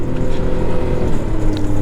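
A Can-Am Maverick X3 DS RR side-by-side drives through winter terrain, producing a steady, close engine drone mixed with rushing wind noise and no speech.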